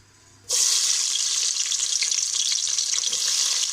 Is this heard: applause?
no